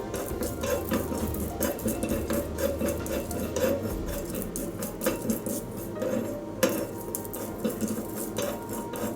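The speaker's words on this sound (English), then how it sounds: "So friends, I am dry roasting it." Dry ginger being dry roasted in a pan, giving a steady rattling and scraping of hard pieces against metal with repeated clinks of a utensil, continuous and close, with no talking.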